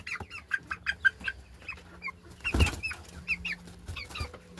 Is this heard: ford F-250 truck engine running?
no